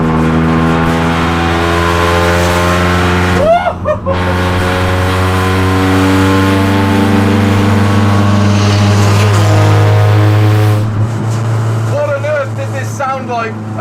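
A loud, sustained engine drone from a Skoda Octavia vRS land-speed race car, with steady harmonic tones, briefly interrupted by a few short voiced sounds, close and continuous throughout.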